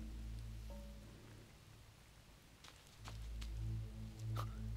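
Steady rain falls in a Chinese fantasy period drama scene, a continuous patter with a low rumbling bed and several sharp drip-like ticks standing out near the end.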